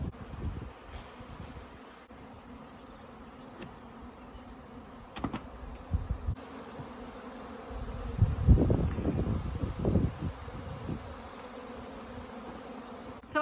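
Native honeybees buzzing during a hive rescue in Mallorca, a continuous close insect drone with louder swells of buzzing and occasional rustles near the end.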